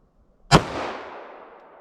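A single loud, sharp shot from a Glock 41 pistol firing .45 ACP Sig Sauer V-Crown 185-grain ammunition cracks close by, then decays through a long, fading echo.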